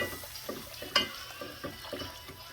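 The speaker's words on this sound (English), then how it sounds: "Want to keep stirring it with our whisk" A whisk stirs dark, rich gravy in a pan for country cube steaks, giving soft repeated scraping strokes with one sharper metallic tap, close and fairly quiet, with no talking.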